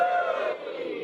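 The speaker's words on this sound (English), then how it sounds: "Give us a cheer if you're over 30." Comedy club crowd at a stand-up night in Bristol letting out a loud sustained cheer and whoop from many voices, close and full, fading slightly toward the end.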